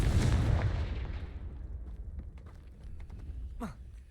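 A Confringo spell explodes in the video game Hogwarts Legacy, a loud booming blast that rumbles and fades over a few seconds, followed by a brief rising magical whoosh near the end.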